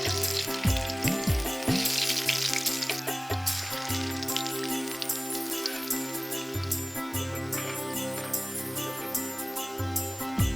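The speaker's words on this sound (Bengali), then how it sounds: "একে একে বড়ার ঠাঁই কড়াইয়ের গরম তেলে।" Vegetable fritters sizzle and crackle steadily in hot oil in a wok, a dense continuous frying hiss throughout.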